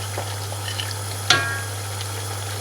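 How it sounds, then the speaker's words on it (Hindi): Tomatoes and green chillies stirred into prawn biryani masala in a pan, a steady sizzling fry with a low hum, light scraping and one sharp clink near the middle, with no talk. "इसे भी अब मिक्स कर लें।"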